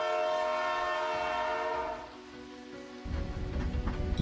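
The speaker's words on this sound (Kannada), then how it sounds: "ಆ ಕಡೆ ರೈಲು ರೊಯ್ಯನೆ ಹಾದು ಹೋಗ್ತದೆ" A train horn blares loudly, then the heavy rumbling roar of a train rushes past close by.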